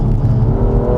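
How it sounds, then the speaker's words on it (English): BMW M2 front-mounted engine pulling steadily during driving, a continuous low meaty drone with a slight rising tone, close and loud throughout the short stretch. "this thing's got a proper meaty engine"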